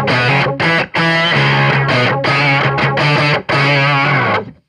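Electric guitar runs through a Soundblox Pro Multiwave Distortion pedal, playing loud, heavily processed sustained notes with a synth-like warble, broken by brief gaps between phrases.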